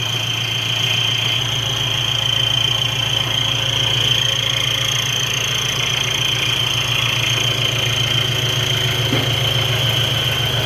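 A blue Kubota L5018 tractor engine idles steadily in a garage, a loud, close, continuous diesel rumble with a throbbing low hum and no talk.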